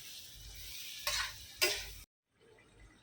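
Tomatoes soften on a hot tawa for street-style vegetable pulao, a soft sizzle broken by two scraping stirs before a brief drop to silence and a fainter sizzle returning.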